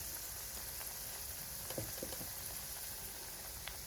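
Turmeric-spiced masala fries in a pan, giving a steady low sizzle with faint crackles and a few soft stirring knocks near the middle, fairly quiet and with no talking.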